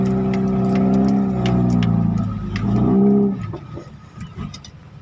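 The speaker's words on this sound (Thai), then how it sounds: "นี่ครับรถไถเอาเดี๋ยวเราพาไปชมรถไถเลย" A loud tractor engine idles and revs with a steady low drone, then drops off after a few seconds into quieter mechanical rattling.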